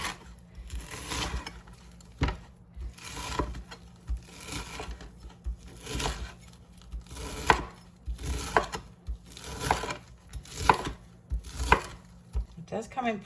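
Partly frozen imitation crab meat chopped with a knife on a board, a steady run of close, firm thuds in uneven rhythmic bursts over several seconds.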